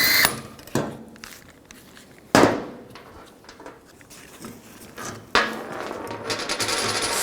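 Working on a 2004-08 Nissan Maxima rear shock, locking pliers clank against metal as the shock absorber nut comes off, giving several sharp separate metallic knocks and clicks between quieter scraping, close up.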